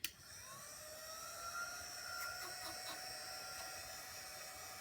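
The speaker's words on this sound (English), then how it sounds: "we're going to try out our new dryer" A handheld craft heat dryer runs steadily, drying wet paint on an Easter-themed chocolate rabbit door hanging. A continuous whirring blow holds at even strength for several seconds with faint tonal whine throughout, no talking.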